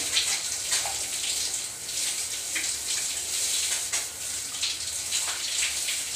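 Water from a shower head runs at normal temperature in a steady, close, hissing spray that lasts throughout, with slight splashing variations and no talk.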